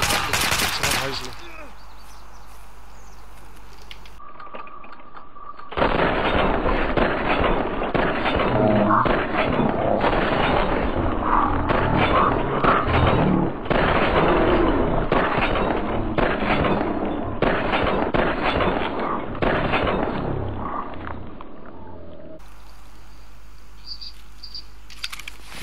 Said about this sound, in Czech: Jestli jsi slyšel střelbu z brokovnice a z pistole,